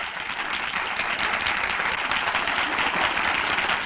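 A studio audience at a radio broadcast bursts into loud, dense applause that holds steady and close throughout, with no talking over it.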